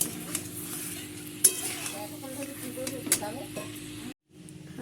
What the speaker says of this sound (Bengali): তো এই যে চিংড়ি মাছ ভাজা হচ্ছে।